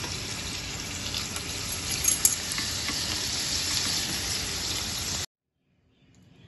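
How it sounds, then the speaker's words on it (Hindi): Papad rolls deep-fry in hot oil with a steady, dense hiss and crackle that runs loudly for about five seconds before cutting off abruptly. "इसी तरीके से जो है हमने सारे पापड़ रोल इसके अंदर एक एक करके डाल के फ्राई कर लेने हैं।"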